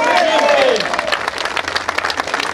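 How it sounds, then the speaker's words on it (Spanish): A crowd applauds at a farewell gathering for a renowned music master, dense clapping under a loud voice at first, then thinning into scattered claps. "Y quiero yo pedirles un fuerte aplauso pues para Aurelio Huaccha Miranda."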